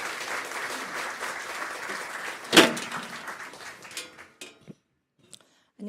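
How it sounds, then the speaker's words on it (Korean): A church discipleship-class gathering applauds for the group's secretary, steady clapping for a few seconds, one sharp loud clap or thump standing out, then the applause thins to a few scattered claps and near silence. "박수 한번 해주세요"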